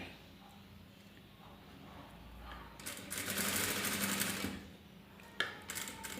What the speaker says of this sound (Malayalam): ഈ തയ്ച്ച നൂലിൻ്റെ മുകൾ വശത്തൂടെ അടിക്കാം.